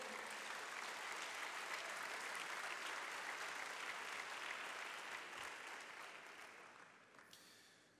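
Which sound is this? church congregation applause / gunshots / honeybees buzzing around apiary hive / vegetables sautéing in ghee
church congregation applause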